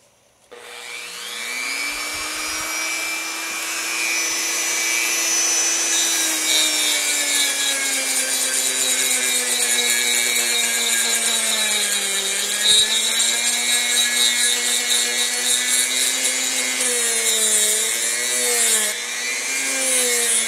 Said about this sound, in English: for that we use a Dremel sanding drum